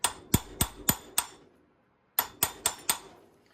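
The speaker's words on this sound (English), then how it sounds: "I'm using the world's smallest hammer just to get it started." Very small hammer lightly tapping a bearing onto the shaft of an Ariens SS522e snowblower: two quick groups of four or five sharp metallic taps separated by a pause, close and clear.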